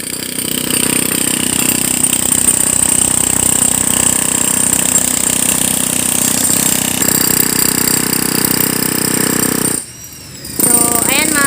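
Noisy construction work on a catch basin next to a coffee shop, with a steady, loud jackhammer-like pounding and engine drone running almost without a break and stopping only once, briefly.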